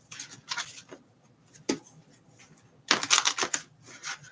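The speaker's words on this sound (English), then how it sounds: "Let me shuffle again a little bit just to make sure." Tarot cards being shuffled by hand give short bursts of riffling, flicking card sounds in three clusters, the last one longest and loudest, close and clear with no talk.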